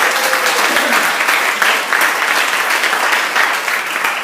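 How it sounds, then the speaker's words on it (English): A church congregation claps for first-time visitors, a full, even burst of applause from many hands that carries on steadily. "let's give them a round of applause"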